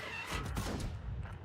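Tank cannon fire in World of Tanks, a heavy blast with a long rumbling boom and crashing decay that fills the whole moment, loud and close, with no talk over it.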